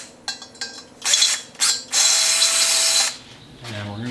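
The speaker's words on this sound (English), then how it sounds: "I'm going to drill a couple drills here." A drill with a number 25 bit bores into thin 11 gauge steel rectangular tube, with a few short bursts and then a longer steady whine, close and loud.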